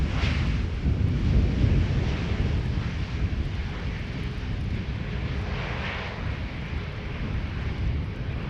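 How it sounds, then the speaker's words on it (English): KLM Airbus A321neo arriving at Amsterdam Schiphol, a sustained rumbling jet roar with a low, rolling growl that stays loud throughout, some brief higher whooshes in the middle, and no voices. "KLM flight 1004 here first, an A321 Neo"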